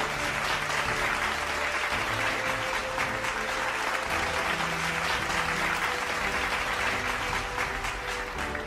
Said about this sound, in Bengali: জারিফ টি চৌধুরীর জন্য একটি জোরে হাততালি